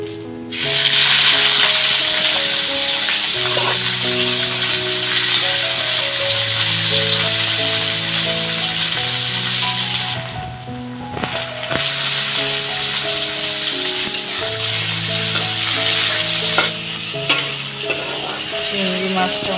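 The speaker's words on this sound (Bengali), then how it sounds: "ওই তেলটা দিয়ে চিংড়ি মাছটা ভেজে নিচ্ছে" Prawns fry in mustard oil in a kadai on a gas stove, giving a bright, continuous sizzle that softens midway and then returns, with gentle background music throughout.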